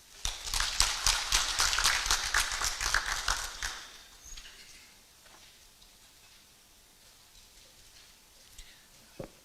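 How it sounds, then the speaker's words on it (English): Audience applause at a Universal Health Coverage collaborative meeting, a burst of clapping that swells for a few seconds and then fades, leaving quieter room noise with occasional isolated claps. "Waziri deserves a bigger round of applause"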